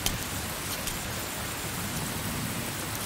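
Steady rainfall at night, a continuous even hiss of drops on surfaces, moderately loud with no voices.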